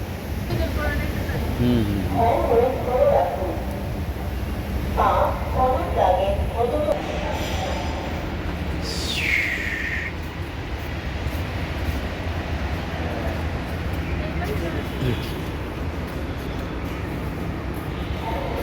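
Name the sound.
metro train passing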